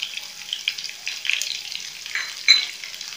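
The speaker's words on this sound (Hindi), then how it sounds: "हम एक पैन में तेल गरम करेंगे और बघार तैयार करेंगे। इसके लिए मैंने जीरा डाल दिया है, इसमें मैं प्याजें डाल दूंगी" Onions dropped into a pan of hot oil with cumin seeds, giving a soft, steady crackling sizzle with a small burst partway through, fairly quiet and close.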